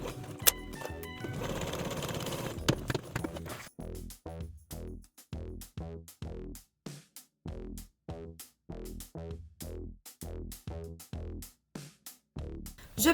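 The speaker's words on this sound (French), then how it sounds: "Puis je couds pour refermer l'ouverture." A sewing machine stitches the lining opening of an evening clutch closed: a dense continuous burst at first, then a long series of short, evenly spaced stitching pulses with brief gaps between them, close and moderately loud.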